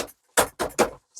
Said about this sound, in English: It's just noisy when you're stamping